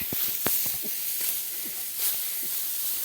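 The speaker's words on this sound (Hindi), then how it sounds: "तो बारिश आ गई है" Rain falls on a rice paddy during harvest season, making a steady, close broadband hiss with a few brief soft knocks scattered through it.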